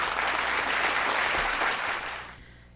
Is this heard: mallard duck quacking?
no